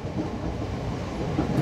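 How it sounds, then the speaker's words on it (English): Inside a moving KRL commuter train in Jakarta, a steady low rumble of wheels and carriage runs continuously, with faint clatter and no talking. "Sorry for the vibration because it's a train."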